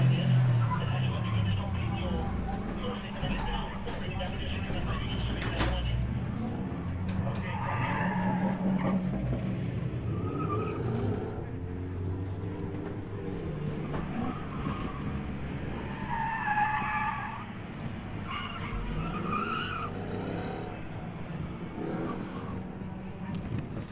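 A rally car tears through a club gymkhana course, engine roaring steadily with repeated tire skids and squeals over about twenty seconds, while a commentator talks over the action throughout.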